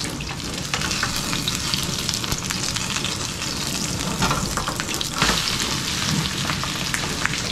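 Perilla leaf and chive pancakes fry in a hot pan, giving a dense, continuous sizzle and crackle that stays steady and close throughout, with no voices.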